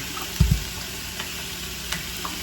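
Chopped onion, tomatoes, cilantro and green onion drop into a hot pan for chicken asada enchiladas, a brief soft thump followed by a steady, fairly quiet sizzle with no talking.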